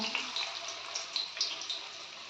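Coriander leaf pakoras frying in hot oil, two batches at once, with a continuous bubbling sizzle and small popping crackles throughout.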